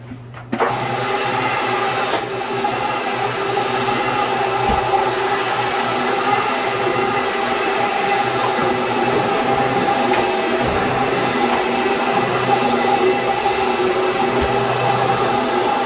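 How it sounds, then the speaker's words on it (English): A scrubber machine runs steadily on corrugated bathroom tile and grout in a small master bathroom, a loud continuous motor hum with rubbing texture that starts abruptly and holds for the whole stretch. "And I will continue in a big space with my scrubber."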